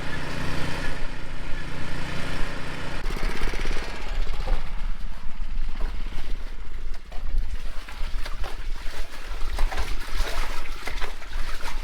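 A gas-powered pump drones steadily and loudly up close as it pumps water out of a dug pit during an irrigation install, a continuous rough engine rumble with splashing water noise and no talk.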